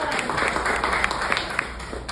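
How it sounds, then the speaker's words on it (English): An audience at a Broward Women's Republican event applauds a congressional candidate's campaign manager. There is a brief burst of steady, dense clapping from a crowd. "Please give Sean some applause."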